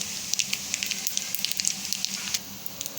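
Vermicelli frying in a large kadai over a low flame gives a steady crackling sizzle with scattered sharp pops, close and fairly soft, with no talk.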